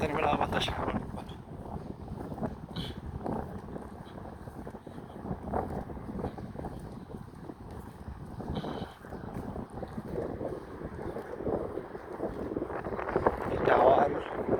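Steady night wind gusting and buffeting against the microphone outdoors, a continuous rushing roar that swells near the end, with someone talking over it.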